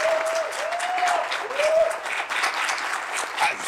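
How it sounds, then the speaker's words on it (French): TV studio audience applauding an artist: continuous crowd clapping with some voices and cheers mixed in, heard throughout at a fairly even level. "et maintenant, un tonnerre d'applaudissements pour cet artiste que je nomme Monsieur Vano, s'il vous plaît."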